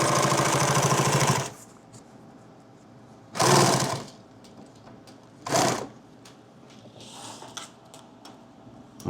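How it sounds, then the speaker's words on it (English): A sewing machine stitches laptop bag fabric in loud, fast whirring bursts: a long run at the start, then two shorter runs, with quiet handling and creaks between them. "So I'm sewing the same direction here."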